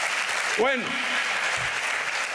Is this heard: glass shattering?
no